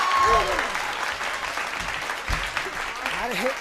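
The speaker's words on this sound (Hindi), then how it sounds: "ताली हो जाए साहब।" Audience at a Hindi comedy poetry recital claps steadily, a broad rustling applause of many hands under a reciting voice that speaks over it.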